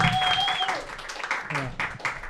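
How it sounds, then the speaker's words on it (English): Audience applause for a comedian at a roast battle comedy show, a steady wash of clapping that fills the clip while an announcer's voice talks over it near the start and again toward the end. "start clapping right now for my friend and yours, Jared Bailey."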